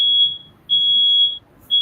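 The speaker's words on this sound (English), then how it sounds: "That alarm system is smoke detector." Smoke detector alarm sounding in a room: piercing high-pitched beeps, three long tones separated by short gaps, loud and close, with no talking over them.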